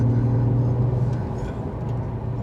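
Porsche 911 Carrera 2 (991) with a naturally aspirated engine in sport mode, heard as a steady, fairly loud low rumble and drone from inside the car, continuous throughout with no talking.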